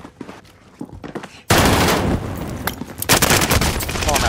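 Sustained automatic gunfire in Call of Duty: Modern Warfare erupts loudly and stays dense with rapid shots and a fresh burst, after quieter scattered game sounds, with no speech over it.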